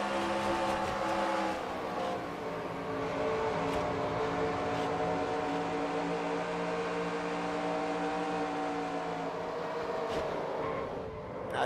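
A stock car engine in a racing video game at Michigan holds a steady, loud harmonic drone, easing slightly near the end as the throttle comes off.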